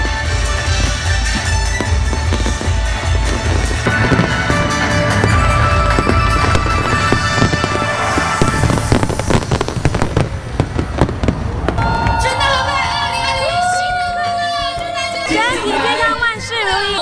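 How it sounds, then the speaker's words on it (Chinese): Chinese New Year fireworks display in Singapore, loud continuous bursts and crackling explosions with whistling rockets toward the end, heard over a crowd. "Now let's enjoy the fireworks spectacular."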